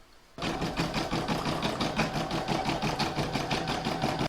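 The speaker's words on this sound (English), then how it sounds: "I'm going to pop that in my machine and stitch round number 11" An embroidery machine stitching a stippling pattern on a scrappy heart design starts abruptly and runs at a steady, fast mechanical rhythm, loud and close, with no one speaking.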